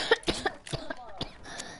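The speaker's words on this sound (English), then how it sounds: "Quit coughing too" Several short coughs from a person in a casual live game-streaming setting, sharp bursts spaced through the clip, fairly close and moderately loud, with faint background noise between them.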